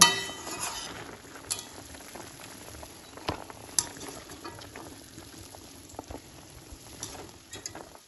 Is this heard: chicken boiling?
yes